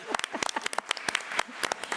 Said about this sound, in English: let's give Ms. Caldwell a round of applause